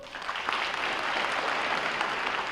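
An audience claps in a dense, steady burst of applause that holds evenly for a couple of seconds.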